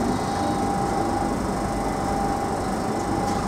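London Underground Central line 1992 stock train, unit 91173, running between Ealing Broadway and White City, a loud continuous rumbling roar with a steady high whine throughout and no speech.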